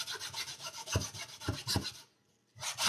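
A whole lemon being rubbed over a fine grater to make zest, close rhythmic rasping strokes with a brief pause before the scraping resumes.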